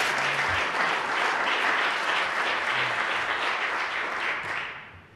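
Sustained applause fills a parliamentary chamber in the National Assembly, dense and steady for several seconds before tapering off at the end, with a few faint voices underneath.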